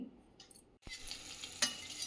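Quiet sizzling of tempering spices in hot oil as asafoetida is added and mixed, with a couple of soft clinks and stirring sounds in a hushed kitchen.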